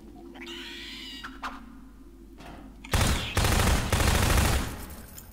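Heavy bursts of gunfire hit enemies in Half-Life 2, arriving as loud rapid volleys after a quieter stretch of softer game sounds.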